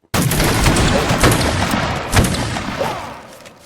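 Ceremonial rifle volley by an honor guard at a rally, a loud, sudden crack that rolls out into a long echoing boom and fades over several seconds.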